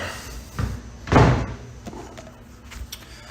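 A door closes with one loud, close slam, preceded by a softer knock and followed by faint rattles and small knocks in a quiet room.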